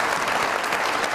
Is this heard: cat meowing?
no